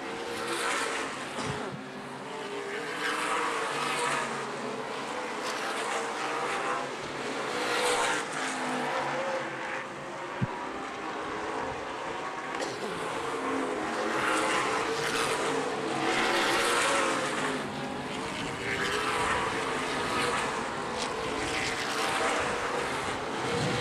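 Race cars racing at Angola Motorsport Speedway, a steady loud roar of engines as cars repeatedly sweep past in rising and fading waves, with no voices.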